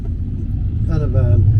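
A single car passes on a winding mountain road with tight hairpin bends, its low engine rumble steady and close, rising slightly as it goes by, with a voice speaking over it.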